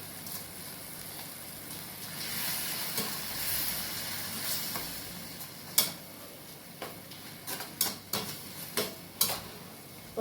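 Thotakura (amaranth) leaves frying in a pan with a couple of dried red chillies, a soft steady hiss and sizzle punctuated in the second half by sharp clicks and taps of stirring.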